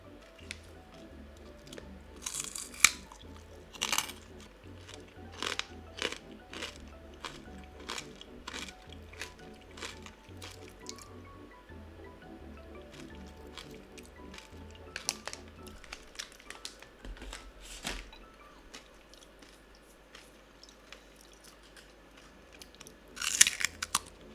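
Chewing and crunching food up close for ASMR, a long run of crisp, irregular crunches and wet bites with brief pauses, intimate and quiet with no talking.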